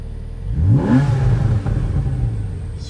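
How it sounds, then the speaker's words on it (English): A 2014 Porsche Carrera S Cabriolet engine revs once from inside the cabin, climbing quickly to a loud rasping peak and then settling back to a deep rumbling idle, with no talking. "you can actually hear the rumble of the pipes on the inside"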